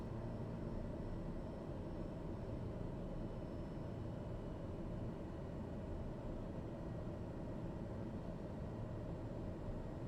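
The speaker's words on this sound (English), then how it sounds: "We're flying a TBM 930, which is a turboprop." Steady turboprop drone of a TBM 930 aircraft in Microsoft Flight Simulator, a continuous low broadband roar with a faint high whine, even and unbroken throughout with no talking.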